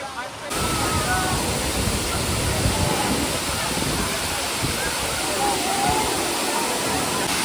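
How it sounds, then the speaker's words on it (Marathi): Loud, constant roar of Savatkada waterfall in Rajapur close by, with faint voices of people mixed into the rushing water. "हा आहे सवतकडा धबधबा"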